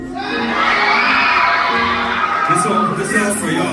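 At a Hmong New Year celebration in a school setting, a crowd screams and cheers together in a loud, sustained roar of high shouts and whoops lasting several seconds.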